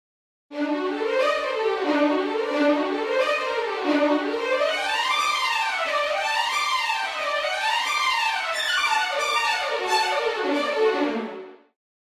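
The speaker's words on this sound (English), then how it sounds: "these string runs come back" Sampled orchestral strings race up and down in rapid minor-scale runs, layered waves of ascending and descending notes played cleanly and continuously at steady volume, then ending abruptly.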